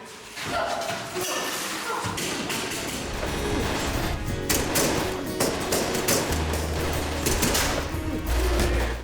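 Gunfire and sharp impacts staged on a short-film set, with a practical blood squib and a thrown dust cloud, forming a loud, dense burst of cracks and thuds mixed with music-like noise, building toward the end.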